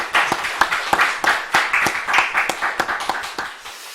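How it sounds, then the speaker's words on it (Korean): A church congregation claps during a Thanksgiving Sunday worship service, a scattered burst of hand claps that builds into uneven rhythmic applause and then thins out toward the end. "우리 하나님 앞에 영광의 박수 한번 올려드리도록 하겠습니다."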